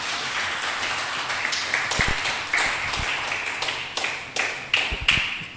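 Sparse applause from a church congregation during a sermon, scattered claps and taps rising unevenly in small bursts rather than a full ovation, fairly close and moderately loud.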